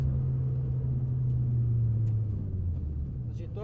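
A race car slows and rolls into the pit lane, its engine a loud close low rumble that gradually drops in pitch and fades slightly, with a voice talking over it.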